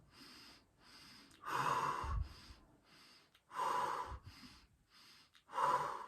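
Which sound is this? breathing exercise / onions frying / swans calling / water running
breathing exercise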